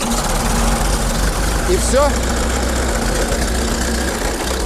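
A Fordson Putilovets tractor engine runs right after starting, a loud, close, steady knocking idle that continues unbroken, with a person briefly speaking over it.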